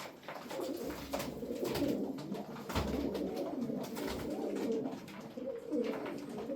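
Zil Arap fancy pigeons coo repeatedly in soft, throaty rolling calls, close by and steady, with no talking.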